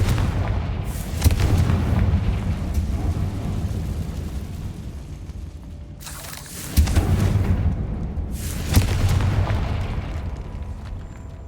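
Confringo spell explosions in the Hogwarts Legacy video game: deep booming blasts rolling over a constant rumbling background, with a sharp burst near six seconds and another around eight and a half.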